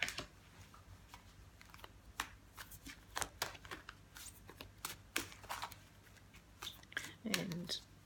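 Playing cards are shuffled and drawn from a deck in a quiet room, giving soft riffling and sharp papery flicks in short bursts, close and faint, with a brief low murmur near the end.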